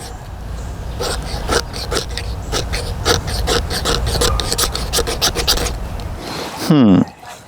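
The square-ground back of a hacksaw blade is scraped in a quick run of rhythmic rasping strokes, close and clear, ending with a brief louder scuff.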